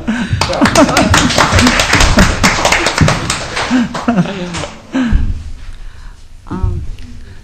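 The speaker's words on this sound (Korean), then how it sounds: "아까 그 박수를 다시 쳐야 되는 거 아닙니까?" A burst of clapping rises from an audience at an academic theology conference, mixed with voices and some laughter, then fades out before a few spoken words.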